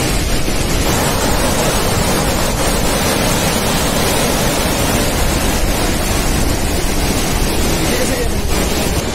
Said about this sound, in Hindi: और ये झरना भी कल्पगंगा में ही मिल रहा है।